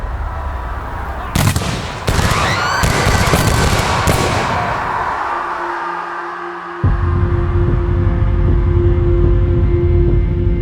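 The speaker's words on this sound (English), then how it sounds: "the small British detachment loses its nerve and opens fire" Gunfire as a small British detachment opens fire on an angry crowd at the Boston Massacre, heard as a loud cluster of sharp cracks and booms over a dense crowd din, then a sustained roaring rumble.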